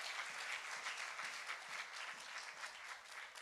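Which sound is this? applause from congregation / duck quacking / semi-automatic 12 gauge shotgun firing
applause from congregation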